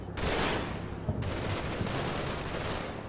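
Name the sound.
gunfire in Combat Mission video game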